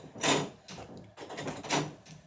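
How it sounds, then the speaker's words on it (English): A dog paws and pushes at closed interior doors to open them, giving a series of irregular bumps and rattling knocks, several loud and close, spread across a couple of seconds. "My dog is trying to open the doors."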